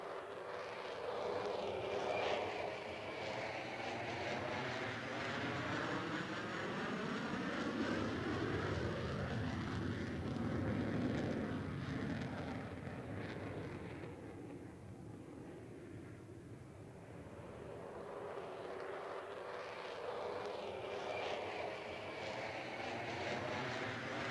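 A de Havilland Vampire jet trainer roars past at an air show, its whining jet noise swelling, fading briefly as it banks away, then building again from a distance.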